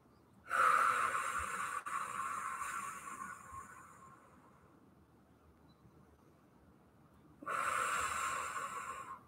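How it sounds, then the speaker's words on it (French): Two long exhalations during a hip-stretching exercise, each a soft breathy rush lasting a few seconds, separated by a quiet pause, close and fairly faint. "Soufflez bien."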